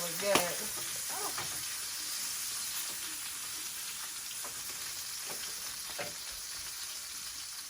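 Food frying in butter in a pan, a loud, steady close-up sizzle with a broad hiss that carries on throughout, marked by faint pops and a brief spatter near the start.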